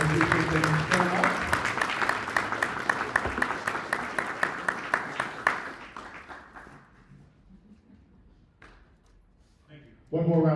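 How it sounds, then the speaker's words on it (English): An audience at a Weathersfield, Vermont town meeting claps in a loud, rapid burst that thins to scattered claps and fades into near silence, with a voice speaking before and after. "let's give them a big round of applause"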